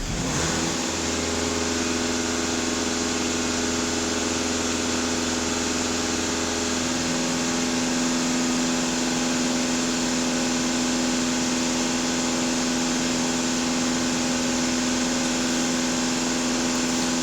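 A diesel engine in a VW Passat B8 runs steadily and fairly loud, a low hum over the first seven seconds that eases into a smoother, higher idle drone with a constant whine, heard alone.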